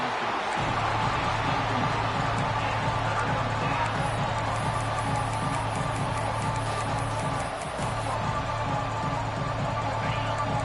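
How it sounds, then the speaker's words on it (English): Stadium crowd at a college football game, Virginia Tech at Auburn, roaring steadily for the defense on third down, a dense continuous wall of cheering that stays loud throughout. "Decibels rising as the crowd gets behind this defense on third down"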